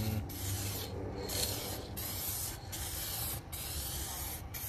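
A spray gun lays a heavier second coat of automotive paint on a car at home, giving loud, close hissing bursts separated by short pauses.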